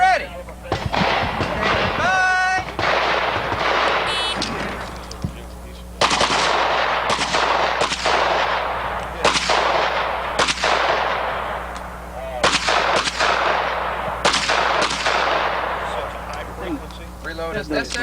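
Loud, close gunshots ring out in rapid strings and separated bursts at a practical shooting competition stage. The shooter engages multiple targets, including a moving no-shoot swinger, and a voice is faintly present between the volleys.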